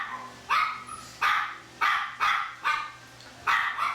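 Several dogs bark in repeated sharp bursts, about six loud barks spaced roughly half a second apart, close by with a low hum underneath and no talking.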